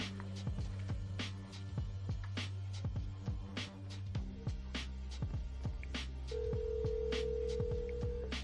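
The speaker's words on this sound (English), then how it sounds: "here I'm going to call my cell phone" A cell phone being called over a VoIP system: a steady tone runs under a dense pattern of repeated clicks and short beeps, then a second, higher steady tone takes over near the end.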